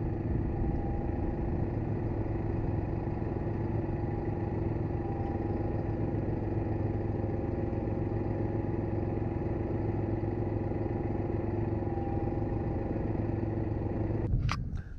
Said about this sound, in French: je vais vous faire voir tout de suite le braquage du tracteur en roue jumelée.